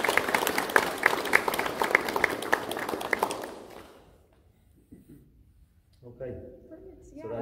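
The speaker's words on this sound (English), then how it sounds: "give yourselves a clap and a pat" A room of students claps steadily in dense applause on award day for an NFTE entrepreneurship program, tapering off after a few seconds before a voice begins speaking.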